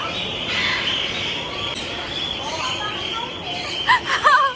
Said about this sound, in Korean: 새, 새 소리.